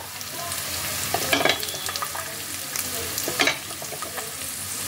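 Carrots and mixed vegetables fry with ginger and garlic in a hot wok, giving a steady close sizzle broken by a few louder stirring scrapes and bursts, with no talking.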